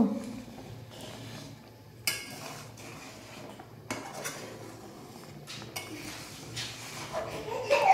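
A spoon stirs milk in a metal pot while making dudh puli, giving intermittent scraping and metallic clinks against the pot, close and fairly clear, with quieter pauses between strokes.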